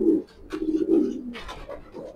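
A grizzle pigeon coos close by in soft, low, throaty bursts, three or four in a row, with no one talking.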